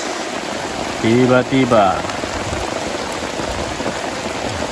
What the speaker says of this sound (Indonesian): diguyur hujan teman-teman